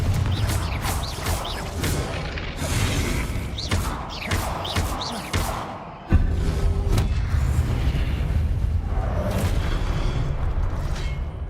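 Confringo blasting spells go off in the video game Hogwarts Legacy as a string of heavy booms and thuds, loud and close, set against rumbling game combat effects, with a voice calling spell names.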